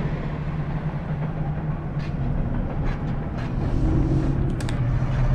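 A train interior in the video game Beyond: Two Souls gives a steady, loud low rumble with a faint hum. It runs without a break, and a few soft clanks and rattles sit on top. No one speaks.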